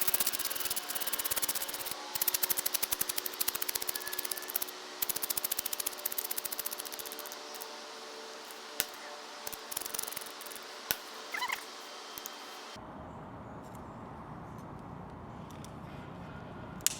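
Knife carving a wooden chopstick in the woods, rapid scraping and shaving strokes close to the mic, dense at first and then thinning to sparse clicks before going quiet.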